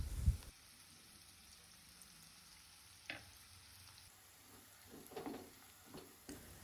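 Sliced onions frying in a pan for biryani, a quiet steady sizzle with a few soft stirring scrapes and clinks, close but faint, without talk.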